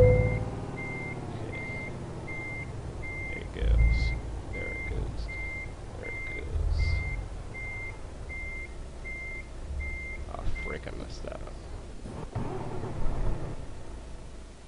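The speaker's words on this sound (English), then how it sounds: "Now we're just going to totally hit it in reverse." Reversing beeps of a truck in the game Euro Truck Simulator sound as a steady, evenly spaced series of electronic tones over a low engine rumble, then stop near the end as mechanical clunks and hisses take over.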